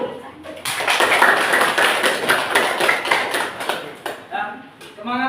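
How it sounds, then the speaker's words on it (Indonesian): A classroom audience gives a round of applause after a group presentation, a dense, steady burst of many hands clapping for several seconds before a voice starts speaking near the end. "Kita beri aplaus dulu."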